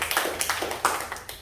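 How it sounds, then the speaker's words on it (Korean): Clapping from students in a seminary class after a Hebrew alphabet reading exercise: a handful of separate claps in an uneven rhythm, fairly close, with no talk during it. "박수 한번 합시다."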